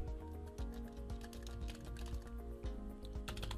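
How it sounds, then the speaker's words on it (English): Typing on a computer keyboard while entering text in nanoCAD, a steady run of quick clicks over a constant musical backing, moderately close and even throughout. "I'll start typing."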